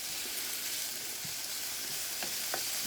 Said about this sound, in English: So as you can see, we got the bacon going here.